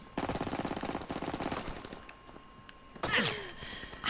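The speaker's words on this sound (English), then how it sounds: "Who the fuck is shooting at me?" Rapid machine-gun fire rings out in an online multiplayer match of Call of Duty: WWII, a quick rattling burst followed by a pause and then a second sharp volley with ricochet-like whines.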